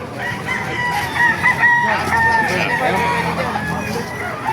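White Kelso gamefowl rooster, nine months old, crows and clucks at a poultry market in Baliuag, Bulacan, with crowd chatter and other birds around it.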